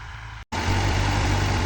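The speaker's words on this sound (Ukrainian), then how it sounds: "Ось такий у нас трактор." A homemade tractor engine runs steadily with a deep low rumble and a faint rhythmic pulse, close and loud, broken by a brief dropout before resuming unchanged, with no talking.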